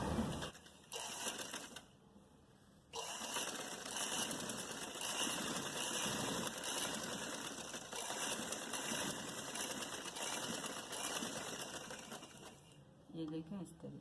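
A sewing machine stitching the belt of a narrow salwar, a steady fast mechanical whirr running almost the whole time, briefly stopping near the start and ending with a pause.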